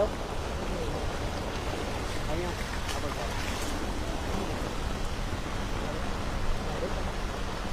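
Heavy rain pours over a flooded railway underpass in Vadodara, a steady wash of rushing water and rainfall with a faint gurgle of floodwater running through, constant and moderately loud with no clear speech.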